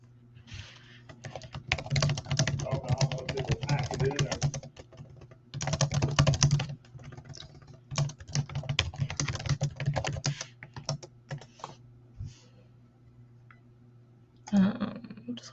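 Typing on a computer keyboard, close and crisp, coming in rapid bursts of key clicks separated by short pauses, with a steady low hum underneath.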